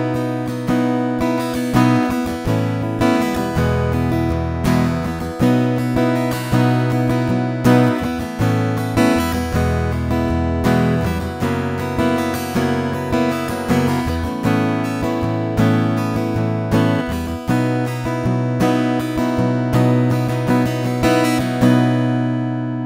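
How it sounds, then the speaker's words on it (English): Acoustic guitar heard through its pickup, plugged straight into an audio interface: steady strummed chords with a bright, cutting tone, loud and continuous throughout, with no voices. "This is just my guitar plugged straight into the interface,"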